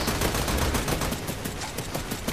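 Enemy gunfire from the video game Army of Two, dense rapid bursts of shots pounding loudly and continuously with no pauses.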